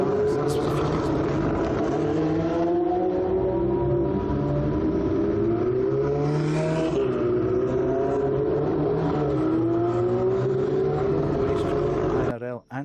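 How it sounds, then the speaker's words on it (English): Big, loud, fast cars rev hard and roar past in a sustained, rising and falling engine drone that stays loud throughout, cutting off abruptly at the end. "Big, loud, fast, noisy cars."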